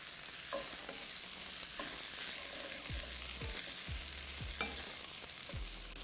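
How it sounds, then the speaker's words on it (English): Basmati rice sizzles in hot oil in a pan, with a steady frying hiss punctuated by repeated scraping and knocking stirs of a spoon against the pan, no talking. "Stir well to let the grains coat with oil and all the flavours."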